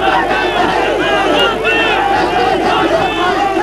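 A large crowd packed into a political rally in Aurangabad erupts in loud, sustained chanting of slogans as BJP president Rajnath Singh appears, with dense overlapping voices and cheers filling the whole moment.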